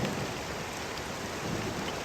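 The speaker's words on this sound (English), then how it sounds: "Why did it have to rain today of all days?" Steady, heavy rain pours down in the video game The Cursed Crusade, a dense, unbroken hiss that fills the whole stretch with no voices over it.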